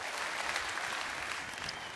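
Church congregation giving a steady round of light applause, dense even clapping throughout at moderate level with no talk.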